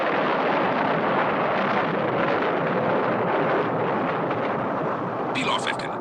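A satellite rocket's ignition blast in the Captain Scarlet puppet TV series comes as a sustained, dense roaring rumble that stays loud and steady throughout, with a brief higher crackle near the end.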